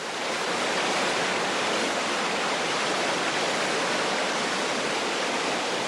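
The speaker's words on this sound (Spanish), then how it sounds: "El agua que fluye del suelo de bosques contiene gran cantidad de nutrientes." Water flowing out of forest soil rushes steadily like a stream, a dense even hiss of moving water holding at one level throughout, with no voices.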